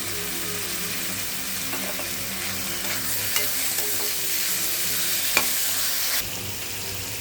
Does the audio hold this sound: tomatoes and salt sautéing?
yes